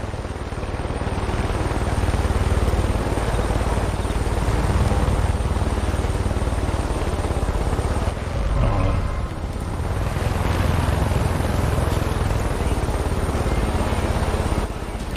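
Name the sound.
helicopter flying overhead in Far Cry 5 video game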